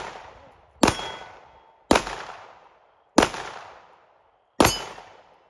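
Four loud, sharp gunshots from a Canik SFX Rival pistol fired outdoors, spaced about a second apart, each with a short decaying echo and no talk between them.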